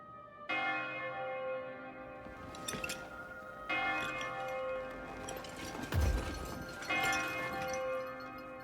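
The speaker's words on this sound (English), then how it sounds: "I hear bells." Bells ring in the Code Vein 2 video game, with several resonant strikes layered over a sustained, shimmering hum, moderately loud and without speech.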